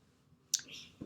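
A single crisp computer mouse click sounds near and clear in a quiet room, followed by a soft low thump.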